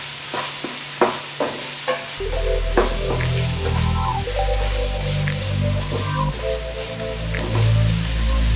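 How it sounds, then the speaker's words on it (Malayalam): Oyster mushroom masala stirred in a pan, with a spoon scraping and clacking in repeated strokes close up while a soft sizzle runs underneath, the stirring turning steadier and denser after the first couple of seconds. "നന്നായിട്ടൊന്ന് ഇളക്കി കൊടുക്കുക."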